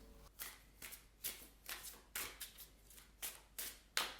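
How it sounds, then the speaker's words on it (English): A new, stiff Marseilles tarot deck is shuffled by hand in a quiet room, about a dozen crisp papery riffles and slides in a steady rhythm, close and soft. "So, I shuffle the cards."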